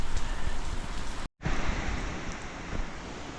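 Steady, heavy rain hissing continuously, loud and close, with a brief dropout partway through before the downpour resumes.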